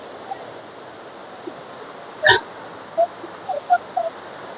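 The Jhati waterfall gives a steady, broad rushing roar of falling water that fills the whole stretch, with a few brief sharp clicks and bursts rising above it.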